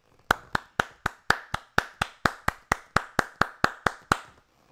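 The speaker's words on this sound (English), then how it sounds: "I want to give you a round of applause," About sixteen separate hand claps in a steady, even rhythm, crisp and close, sounding alone with no talk over them.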